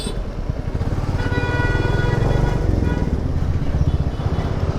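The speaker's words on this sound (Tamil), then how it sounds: "கண்டிப்பாக டிராஃபிக் இருக்குன்னு தெரியும், ஆனால் இந்த அளவுக்கு டிராஃபிக் இருக்குன்னு எனக்கு சத்தியமாக தெரியாதுங்க" Dense road traffic on a city route between Coimbatore and Pollachi, with motorcycles and cars rumbling steadily close by and a few horn toots rising over the continuous roar.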